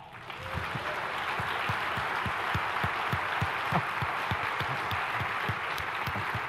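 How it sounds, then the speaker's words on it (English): A conference audience at a mobile app development talk gives sustained applause, a dense steady wash of many hands clapping close and loud for the whole stretch, with no talking over it. "you can give us a big round of applause because that was awesome"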